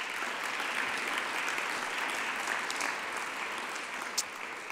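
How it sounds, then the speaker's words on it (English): Audience applause at a government conference honoring young online-safety ambassadors in Ireland, a steady, moderately distant roll of many hands clapping that continues unbroken throughout. "and I think they deserve a round of applause."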